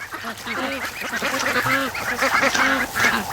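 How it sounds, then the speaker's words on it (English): Several ducks quack in a busy, overlapping chorus, close by and steady throughout, with no talking. "Hello, ducks."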